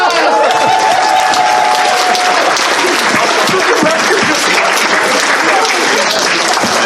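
Loud, sustained applause with some cheering fills a convention hall at a furry charity show, a dense roar of clapping from a large crowd.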